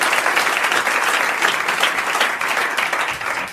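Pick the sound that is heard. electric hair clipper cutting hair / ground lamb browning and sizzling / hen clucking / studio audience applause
studio audience applause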